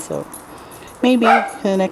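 A pet dog in a backyard vegetable garden gives a short yipping bark at the start, and a person then talks over the background.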